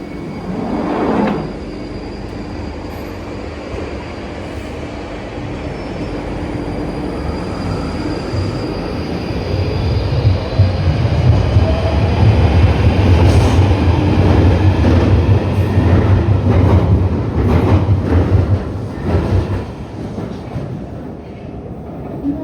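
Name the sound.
London Underground Northern Line train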